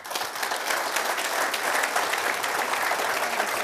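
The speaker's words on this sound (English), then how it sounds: "please join me in a warm round of applause for our distinguished guest." Audience applause for a distinguished guest, the German defence minister, at an event in Athens with Kyriakos Mitsotakis; steady, dense clapping from a sizeable crowd fills the whole stretch at an even, sustained level.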